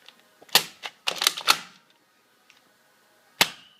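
Sharp, snappy bursts from a Nerf toy gun being fired, a quick cluster of several close shots followed by a pause and one more crisp pop, all heard close up without talk.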